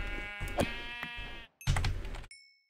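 Two bursts of sheep bleating from Minecraft, each a wavering nasal cry lasting about a second, separated by a short gap and followed by a faint pickup chime, with no talking.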